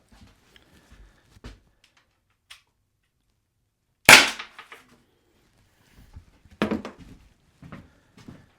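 A single sharp crack from a Byrna less-lethal launcher fired during a penetration test, close and loud, with a few faint knocks and handling sounds scattered before and after.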